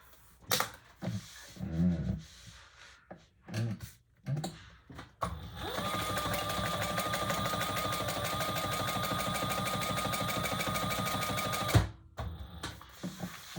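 After several seconds of intermittent handling clatter, a sewing machine runs in one steady continuous burst of rapid stitching on a tote bag seam for about six seconds, then stops with a clunk.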